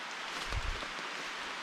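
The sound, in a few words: rain falling on a jungle camp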